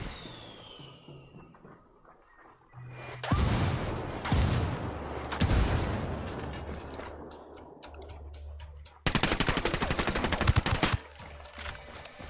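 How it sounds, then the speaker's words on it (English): A rebel indirect fire support strike in Ghost Recon Wildlands thunders in with repeated heavy blasts, then a dense burst of rapid gunfire, loud and close over a low game rumble. "I called the rebels for some indirect fire."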